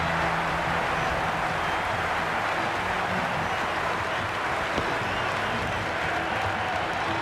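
Cricket crowd at a women's T20 World Cup match between India and Australia, with a broad, steady roar of applause and cheering that stays loud throughout.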